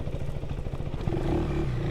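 A KTM 390 Adventure R single-cylinder motorcycle engine runs on a gravel road, a close, pulsing thrum that builds as the rider accelerates, with gravel crunching and clattering beneath the tires.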